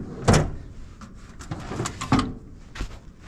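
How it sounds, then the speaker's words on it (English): Drawers on a sloped workbench slide and bump open, giving several wooden knocks and scraping thuds close by in a farm workshop. "The bench is at a slope, so the drawers keep opening up."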